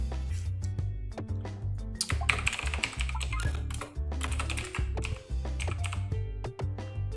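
Steady computer keyboard typing at close range, rapid irregular key presses in bursts with brief pauses, no voices.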